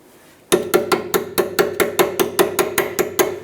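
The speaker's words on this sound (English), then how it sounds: "We're going to use a 17mm wrench to go ahead and loosen these caliper bracket bolts." A ratcheting 17mm wrench loosening rusty caliper bracket bolts on a 2008-2013 Nissan Rogue, producing a rapid, even series of about fifteen loud metallic clicks, close up and alone.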